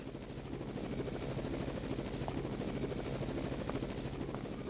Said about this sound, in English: And into the helicopter we go.